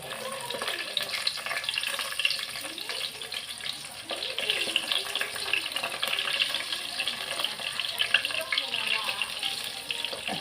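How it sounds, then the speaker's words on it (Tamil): Eggplant pieces frying in hot oil in a kadai give off a steady, dense sizzling hiss that holds at an even level throughout, with faint voices in the background. "எண்ணெய் சூடாயிடுச்சு. கத்திரிக்காய் போடுவோம்."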